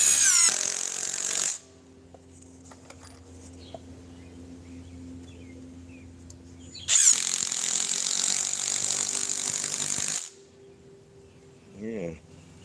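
A Ryobi drill driver runs in two loud bursts, about one and a half seconds and then about three seconds, set to speed 3, with quiet stretches between and a brief faint sound near the end.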